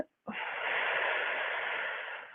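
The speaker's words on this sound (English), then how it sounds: "and then let the whole breath out" A long, steady exhale through the mouth, breathy and close, sustained for about two seconds after a brief pause, with no talking.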